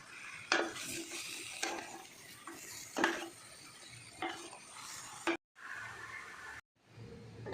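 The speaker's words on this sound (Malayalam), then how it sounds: "ഇനി ഇതെല്ലാം കൂടെ ഒന്ന് ഇളക്കി യോജിപ്പിക്കുകയാണ്" Chicken curry stirred in a pot, with several quiet, evenly spaced scrapes and knocks of a spoon against the pot over soft background hiss, briefly cut off near the end.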